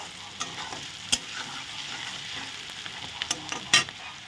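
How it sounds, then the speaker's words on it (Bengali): Onions frying in a pan as the base for egg curry: a steady, moderate sizzle broken by a few sharp clinks and scrapes of a spoon against the pan. "পেঁয়াজটা ভালো করে একটু ভেজে নিচ্ছি"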